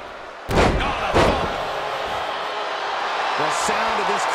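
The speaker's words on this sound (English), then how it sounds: "the sound of this crowd is deafening, and he's asking for more" A loud, deafening wrestling crowd roars through a GHC Junior Heavyweight tag team title match, punctuated by two heavy ring slams early on, with a voice talking over the sustained din near the end.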